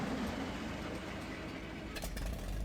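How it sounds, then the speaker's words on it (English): The motor of a 450 car in an old-school driving game idles in a steady, faint, low drone, with a brief clattering blip near the end. "Listen to that motor."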